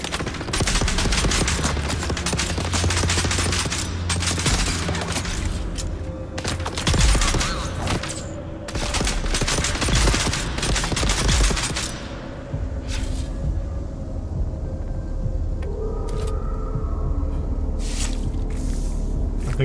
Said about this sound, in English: Oh, who's shooting at me?